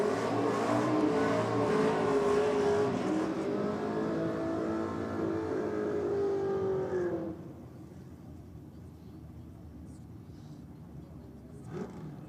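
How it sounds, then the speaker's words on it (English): Drag racing car doing a big burnout at a grudge race day, its engine roaring loud and steady with shifting pitch for about seven seconds before cutting off, followed by quieter crowd ambience. "Big burnout from him out past the 60-foot mark is there"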